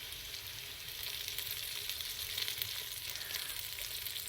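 A tablespoon of cumin seeds sizzles in hot oil, a steady bright crackling hiss that swells slightly after the first second and holds constant and close, with no one talking.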